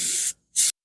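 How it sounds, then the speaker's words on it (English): Rust-Oleum rusty metal primer sprayed from an aerosol can onto car parts outdoors, two short hissing bursts with a brief gap between them, loud and close. "You got to see me spray out at least the rusty metal primer there."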